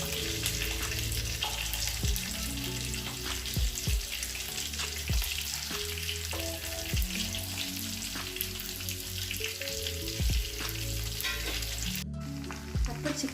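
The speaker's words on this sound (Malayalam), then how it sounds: "ചിക്കൻ നന്നായിട്ട് ഫ്രൈ ആയിട്ട് വന്നിട്ടുണ്ട്" Chicken pieces frying in oil in a pan for mandhi, a steady loud sizzle with repeated clanks and scrapes of stirring throughout, cut off briefly near the end.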